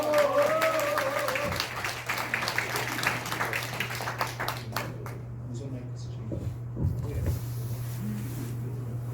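Applause from the audience in a hall at a political debate forum on electoral reform, steady clapping over a constant low hum, tapering off as a voice takes over.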